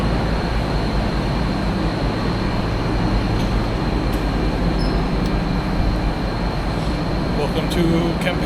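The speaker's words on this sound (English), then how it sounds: "Campeche train station." Loud, continuous rumble of a Tren Maya train at Campeche station in Mexico, steady low roar with occasional light clicks and squeaks, muffled voices faintly underneath.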